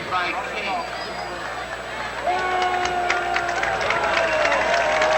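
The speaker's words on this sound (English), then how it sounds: "Riddle gets a good hand from the crowd as he comes off of the field" A crowd at a college football game gives a player applause as he leaves the field, a broad wash of clapping and cheering that swells midway, under a commentator's talk.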